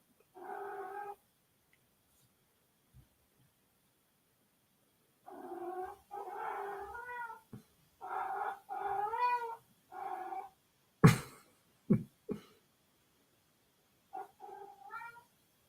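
A house cat meows in several drawn-out, wavering cries spaced across the stretch, with long silent gaps, a couple of sharp knocks near the end and a softer final meow, indoors and close.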